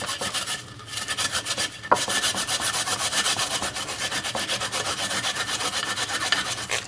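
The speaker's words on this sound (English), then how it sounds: "Now it's time to grate this little piece of ginger." A small piece of ginger is grated on a grater in quick, rapid back-and-forth rasping strokes, close and fairly steady, with a couple of brief pauses early on and no talking.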